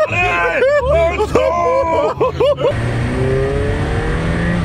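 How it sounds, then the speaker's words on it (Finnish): A rally-style car pulls away and accelerates, with a loud engine rising in pitch through several gear-like sweeps before settling into a steady roar, while people talk and exclaim excitedly over it. "Oi jumala, auto liikkuu."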